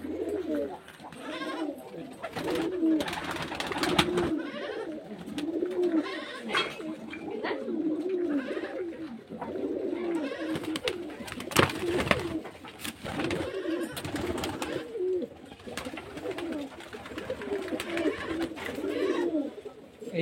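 Pigeons for sale at a pigeon seller's place in Beldanga, cooing steadily and in overlapping bursts over twenty seconds, with scattered sharper bird calls, bleat-like cries and brief thumps or flutters throughout.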